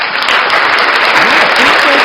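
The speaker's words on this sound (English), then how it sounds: "let me give you applause." Applause sound effect, a loud, dense burst of many hands clapping, steady and close across its short length, with a voice faintly mixed in underneath.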